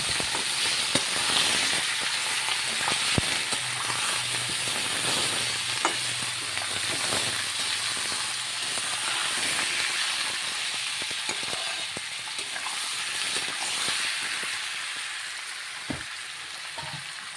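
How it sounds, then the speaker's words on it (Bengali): Boiled arum taro is stirred and sautéed in a pan for a snakehead fish curry, with a steady oily sizzle and hiss underneath a scatter of utensil scrapes and clinks. "এইবার নেড়ে চেড়ে ভালো করে সুন্দর করে কষিয়ে নেব।"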